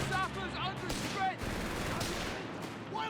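Machine gun fire rattles in rapid bursts amid other gunshots in a Company of Heroes 3 battle, sharp repeated cracks with brief whistling effects over a dense, busy combat background.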